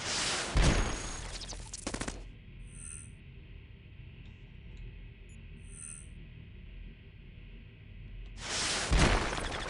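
Heavy missile fire in the robot roguelike Cogmind: a sharp burst of launches and impacts at the start, a low rumbling hum with faint beeps in between, then another loud burst near the end, with no talking.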